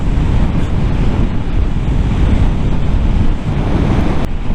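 Heavy, steady wind roars across a rider on a Honda CBR650R motorcycle at speed, a loud continuous buffeting rush with no voices.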